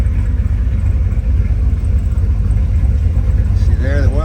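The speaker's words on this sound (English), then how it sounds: "It's kind of hard to hear it with the rumble of the car" A 1965 Corvette convertible engine idling with a deep, steady low rumble that stays loud and close the whole time, and a voice briefly talking over it near the end.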